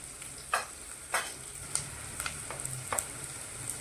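Fried onions with turmeric, garam masala and coriander powder are stirred in a pan for vegetable kurma, a soft steady sizzle broken by a few distinct scraping strokes at roughly half-second intervals.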